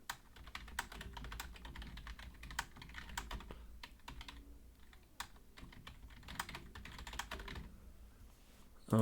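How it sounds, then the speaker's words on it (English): Steady typing on a computer keyboard, entering a wallet seed phrase: a quiet, continuous run of close key clicks with short irregular pauses, alone without talk. "I'm going to type in my seed here."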